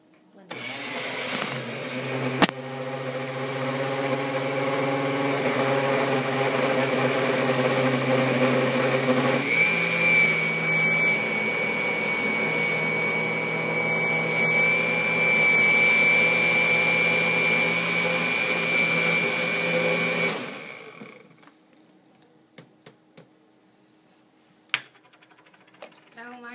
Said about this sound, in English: you can toss all your components into the blender and